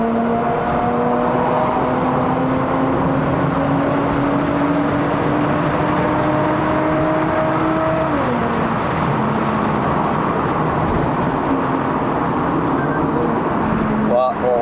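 A remapped Lexus IS250 XE20 drives along, its engine tone climbing steadily through a long pull before dropping on a shift and settling into a lower drone, loud from inside the cabin with road noise and a voice talking.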